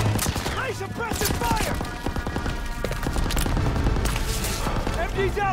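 Machine gun suppressive fire in the World War II shooter Call of Duty: WWII, sustained loud bursts and rapid shots running throughout, mixed with explosions and shouted voices of soldiers.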